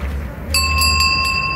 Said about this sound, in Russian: Старый колокольчик.